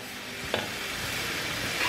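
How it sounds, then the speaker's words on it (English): Beef and broccoli stir fry sizzles steadily in a pan, a continuous close frying hiss with a brief sharp clink near the middle and no talking. "It's kind of a combination of frying and steaming the meat and the veggies."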